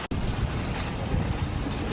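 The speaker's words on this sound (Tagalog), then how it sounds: "So windy." Strong outdoor wind buffeting the microphone in a loud, continuous low rumble and roar, steady and close with small gusty swells, no voices.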